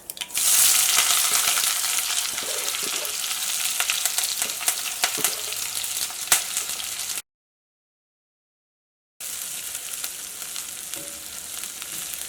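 Onions, ginger, green chillies and curry leaves sizzle and fry steadily in a pan with occasional stirring scrapes; the sound cuts out for a couple of seconds, then resumes.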